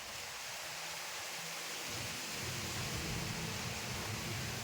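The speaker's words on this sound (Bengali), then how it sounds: "খুব একটা যে মুষলধারে বৃষ্টি হচ্ছে তা নয়, কিন্তু মোটামুটি ভালোই হচ্ছে।" Moderate rain falls on trees outdoors, a dense, even hiss of drops on leaves that stays steady and fairly soft throughout, with a low rumble underneath and no talking.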